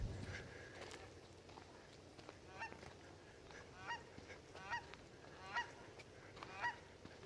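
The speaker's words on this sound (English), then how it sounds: "Look at all those geese." A flock of geese honking at a distance, a series of regular nasal calls about once a second over a quiet outdoor background.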